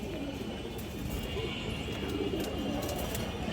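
Pigeons at a bird market cooing in a soft, low, continuous murmur, close by with a few faint chirps above, no clear speech.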